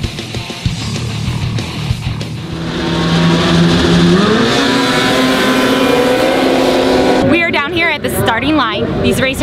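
Snowmobile engines idling and revving at a race starting line at Hay Days, a loud close rumble that climbs in pitch and holds, then breaks into fast warbling revs, with people talking over it.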